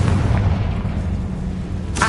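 A Confringo spell explosion in the Hogwarts Legacy video game, a dense, loud, sustained boom rumbling inside a tomb, with a sharper burst at the very end and no talk.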